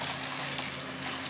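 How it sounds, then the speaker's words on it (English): Boiling water pours out in a steady, close rushing splash, with no voices. "It's boiling water."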